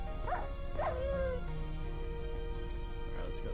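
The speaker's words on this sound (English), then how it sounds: "Another dog." Dog barking in Minecraft, a few short yips and barks spaced across the clip over a low steady ambient background, fairly faint.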